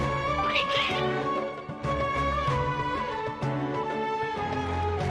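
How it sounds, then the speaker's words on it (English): Cartoonish cat meows from the video game Genshin Impact, several agitated calls rising over a steady bed of game background music with a voice briefly murmuring. "The cats seem pretty worked up."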